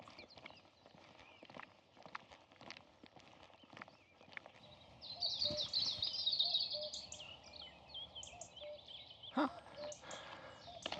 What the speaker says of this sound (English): Sounds like a cuckoo clock out there. Wonder what kind of bird that is.